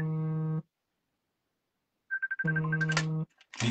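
A telephone rings with an incoming call during a live broadcast: a loud electronic ringtone plays in short tonal bursts separated by a silent gap, with a fainter beeping pattern starting just before the second burst.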